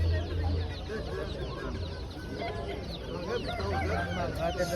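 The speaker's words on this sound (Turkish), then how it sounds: "Burada bir tane cin horozu var." A bantam rooster clucks at a busy poultry market, its short calls mixed with other fowl amid a murmur of market voices and background noise.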